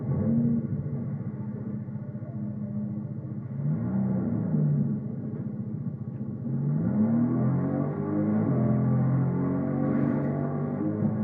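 A vehicle engine hums and revs steadily in Fortnite, a continuous mid-pitched motor drone with rising and falling pitch sweeps as it accelerates, with no talking.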